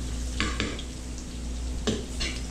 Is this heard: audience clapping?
no